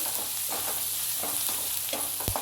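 A spoon stirs turmeric into fried garlic and green chili in a pan, making soft repeated scrapes over a constant close sizzle, with one sharper knock near the end.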